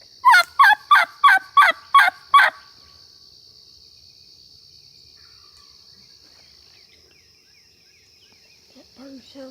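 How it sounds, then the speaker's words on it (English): A wild turkey gobbles nearby during spring turkey season, a quick burst of about seven loud rattling notes, followed by insects chirping steadily in the quiet and a faint voice near the end. "I just find it odd that they ain't gobbling at the same time at least once."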